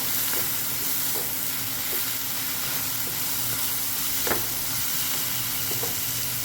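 Curry leaves sautéed for a pork curry, a steady loud sizzle with occasional spoon scrapes and taps against the pan, continuous and close with no talking.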